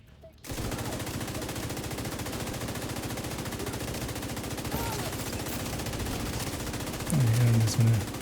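Sustained, rapid automatic gunfire in a video game, loud and continuous after a brief quiet opening, with a louder stretch near the end.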